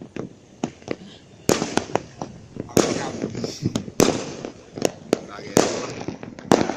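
New Year fireworks crack and pop repeatedly at irregular intervals, sharp bangs echoing close by against a murmuring background of voices.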